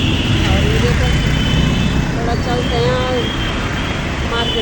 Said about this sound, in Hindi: इधर तो गाड़ियों का इतना शोर शराबा हो रहा है